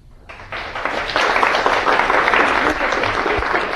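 After a bioinformatics lecture at a summer school, an audience breaks into clapping that swells quickly and holds as a full, steady round of applause in the room.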